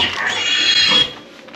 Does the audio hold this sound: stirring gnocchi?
no